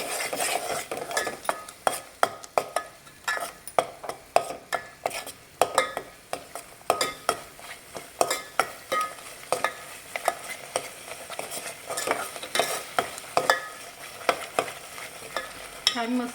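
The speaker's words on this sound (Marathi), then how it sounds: "हे वाटण छान आपण एक अर्धा मिनिट परतून घेऊया छान मसाला" Ground masala paste for egg curry being stirred and sautéed in a pan, with a steady run of sharp spoon scrapes and clinks over a low sizzle, close and fairly loud throughout, no talking.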